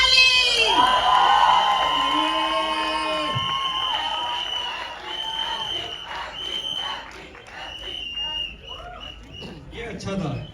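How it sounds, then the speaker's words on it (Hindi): An audience at a film trailer launch event claps and cheers, with whoops and shouting that rise loud at the start and then thin out, while amplified voices and a sustained musical tone sound over the crowd. "बजाओ ताली"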